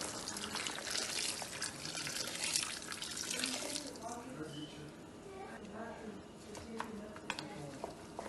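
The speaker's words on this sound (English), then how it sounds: "I'm going to add water." Water poured into a pot of frying chicken, a running, splashing pour with sizzling texture that fades after a few seconds, with a voice speaking over it.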